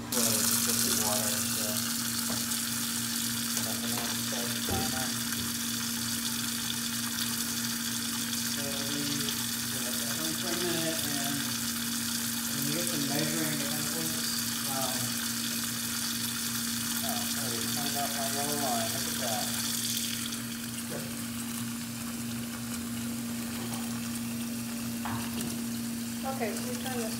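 Running tap water flowing steadily as a rinse during hand processing of 16mm film in a LOMO tank, a continuous hiss with a low electrical hum beneath, people speaking now and then over it, easing slightly near the end.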